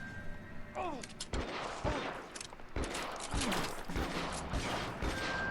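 Repeated gunshots in the LA Noire video game, a string of sharp bangs at irregular intervals over steady game ambience, with a few whistling ricochet-like sweeps between shots.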